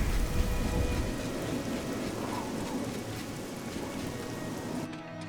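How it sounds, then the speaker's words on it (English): Heavy rain pours steadily in a thunderstorm in the video game Oblivion, a dense continuous hiss with low rumbling underneath, close and even throughout before dropping away at the end. "Bad storm raging, I guess."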